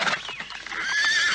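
A horse whinnies loudly and nearby with a drawn-out, wavering neigh while riders get down from their mounts, and faint hoof shuffling sounds underneath.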